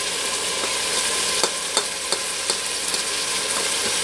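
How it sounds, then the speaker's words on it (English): Diced carrots and celery frying in olive oil for a Tuscan tortellini soup give a steady, dense sizzle throughout, broken by a few light stirring clicks near the pan. "we're going to then add the 2 carrot sticks and the 2 celery stalks that have been diced."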